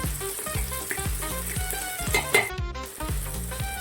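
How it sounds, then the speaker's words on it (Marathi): Onion, tomato and coriander sautéing in a pan for a goat mutton curry, a steady close sizzle with repeated scraping stir strokes in a regular rhythm, no voices. "कांदा, टमाटर आणि कोथिंबीर हे व्यवस्थित लालसर परतून घ्यायचे"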